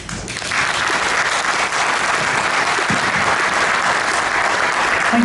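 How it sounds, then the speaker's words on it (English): Sustained loud applause from a conference audience at a BICSI Middle East event, steady dense clapping filling the whole stretch after a speaker finishes on stage. "can we have a louder round of applause there?"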